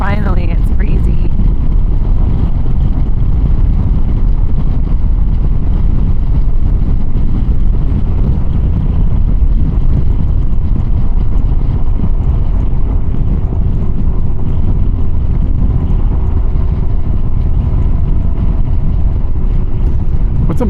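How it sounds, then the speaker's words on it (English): Strong wind buffets the microphone while riding a scooter in Japan in spring, a constant loud low roar filling the whole stretch, with voices faintly under it. "Ah, finally, it's breezy."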